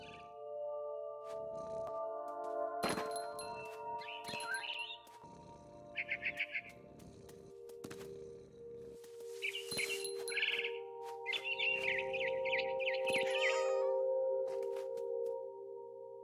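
A frightened bird in the game What Remains of Edith Finch gives bursts of sharp chirps and trills over sustained music tones, with several quick rapid call flurries across the scene.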